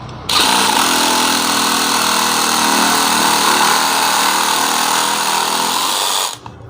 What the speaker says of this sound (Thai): ในการตัดนะครับจะต้องดันเลื่อยให้ชนกับชิ้นงานแบบนี้เลยนะครับ